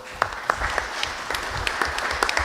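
A small panel discussion audience gives brief scattered applause, a handful of distinct claps over a quiet room.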